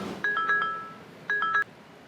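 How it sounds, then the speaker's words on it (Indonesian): A telephone ringtone sounds as two short bursts of bright warbling electronic chirps separated by a pause, clear and close with no talk over it. "Sebentar, ada telepon."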